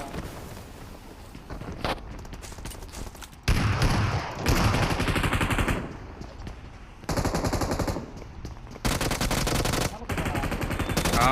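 BGMI video game gunfire: loud bursts of automatic rifle fire in several rapid volleys, with faint talk in the gaps between bursts.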